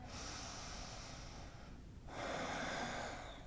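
A deep inhale during a yoga pose, a long airy breath drawn in close to the microphone, easing off briefly midway and then continuing steady and full, with no talking.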